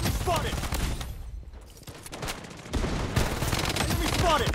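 Sustained automatic gunfire in the Farlight 84 battle game, heavy bursts that dip briefly in the middle and then resume loud and dense, with game voice chatter mixed in.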